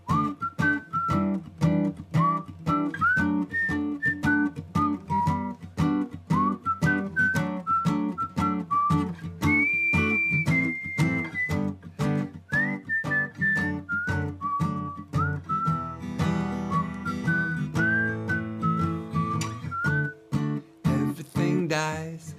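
A person whistles a lively melody in clear, steady phrases over a continuous instrumental accompaniment, the whistled line sitting high and prominent throughout.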